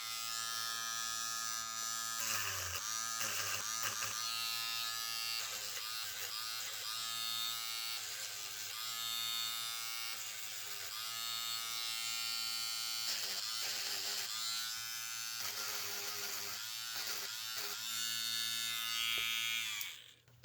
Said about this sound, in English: I got a little pen sander now. Let's give it a try. So let's crank her up